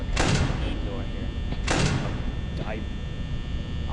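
A door opening and shutting inside the horror video game Five Nights at Freddy's: two loud broadband whooshing slides about a second and a half apart, followed by a fainter sweeping mechanical sound, over a steady low hum.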